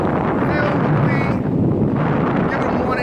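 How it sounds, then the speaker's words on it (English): Ocean waves wash on a beach under steady wind buffeting the microphone, a broad continuous roar with faint voices in the background. "Hear the waves, fam."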